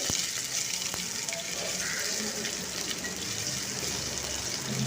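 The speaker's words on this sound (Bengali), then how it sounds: "এরপর আলুটা দিয়ে দেব দিয়ে এটা কিছুক্ষণ ভেজে নেব তেলের সাথে" Diced potato fries in hot oil, a continuous dense crackling sizzle that holds steady and close throughout with no talk.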